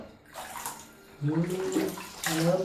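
Warm bathwater splashing and sloshing as a baby is washed, running water close by with voices talking over it.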